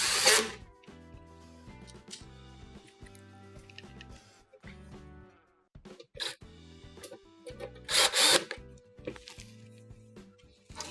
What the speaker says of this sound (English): re-secure this panel with the 2 1/4-inch screws we removed from the top